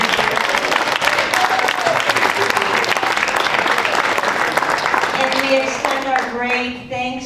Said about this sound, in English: Should we do a huge round of applause for our amazing teachers?